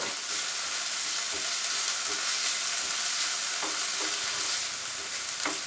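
Bacon frying in a pan for a pierogi casserole, a loud, dense crackling sizzle close up that runs continuously, with a few faint utensil taps.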